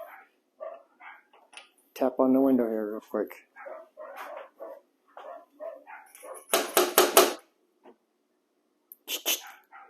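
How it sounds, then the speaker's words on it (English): A puppy gives a short yapping bark early on amid ongoing speech, followed later by a burst of tapping knocks. "that's the puppy. She's still barking."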